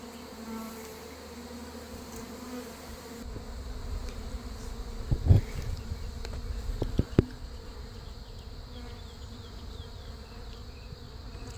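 A honeybee swarm buzzing steadily close by during removal from a mobile home, with a few louder bumps and knocks partway through; no talking.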